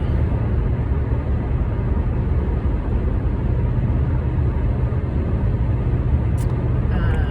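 A car drives on a clear road ahead of snow, its loud, steady engine and road rumble droning continuously close by from inside the cabin.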